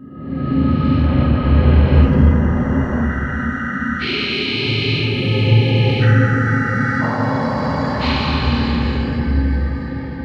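Eerie cave ambience from the abandoned mines of the video game Minecraft: layered, reverberant drones and shifting tones that swell and change every few seconds, steady and loud throughout with no voices.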